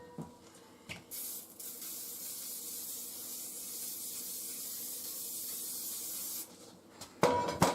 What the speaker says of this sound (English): I always use like a little spray can thing.